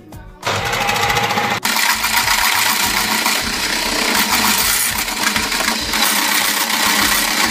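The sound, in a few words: electric whisk whipping whole liquid cream into chantilly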